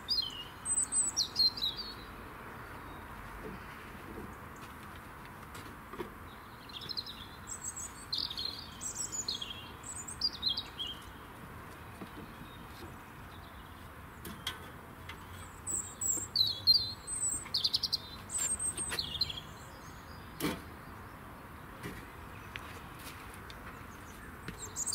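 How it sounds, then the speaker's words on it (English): Birds chirp and sing outdoors on a quiet January afternoon at a railway allotment, scattered short tweets coming in small bursts, fairly faint and somewhat distant over a soft background hush. "Listen to those birds."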